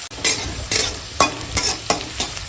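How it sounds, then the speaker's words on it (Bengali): Bay leaf, onion and slit green chilies frying in hot oil, a loud close sizzle broken by regular scraping strokes of a spatula stirring the pan, about one every half second. "ওই তেলেই এখন তেজপাতা দিয়ে দিলাম, আর দিয়ে দেবো কেটে রাখা আর কাঁচা লঙ্কা চেরা দিয়ে একটু ভেজে নেব"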